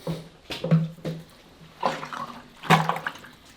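A butter mold is rinsed and washed in water at a mountain alpine hut, giving a few short splashing and sloshing bursts with gaps between them, close by and moderately loud.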